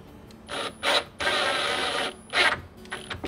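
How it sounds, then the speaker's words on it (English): A power driver whirs in short bursts, one long steady run in the middle, as a screw is driven through ribbon into a fall wall wreath, close and fairly loud. "I've got to figure out how to hide this screw under here and screw this in"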